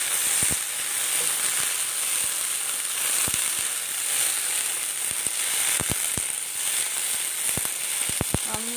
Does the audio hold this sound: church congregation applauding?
no